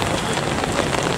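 Heavy rain pounds down outdoors, a dense, loud, continuous hiss and patter of drops hitting surfaces and umbrellas with no pauses.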